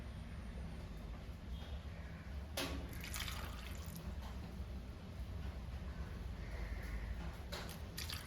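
Water poured into a cooking pot holding a potato for Kerala-style egg avial, a soft, quiet trickle and splash with faint drips and a brief louder burst partway through, heard close up in a calm kitchen.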